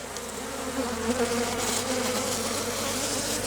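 Honey bees at a framed hive, likely a Japanese-style setup, making a dense continuous drone of many wings close by, steady and unbroken with no talking.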